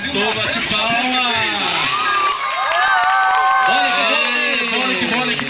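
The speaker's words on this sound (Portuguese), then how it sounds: "Quem gostou, bate palma." Audience at a live children's dance show in Santa Bárbara do Oeste cheering, whooping and shouting, with children's voices prominent and clapping mixed in, a loud continuous crowd roar that swells near the end.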